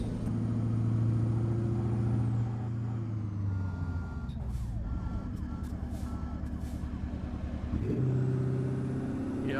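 A truck engine drones steadily in American Truck Simulator, the low rumble shifting pitch as the vehicle changes speed, with reversing-style beeps and brief higher clatter in the middle.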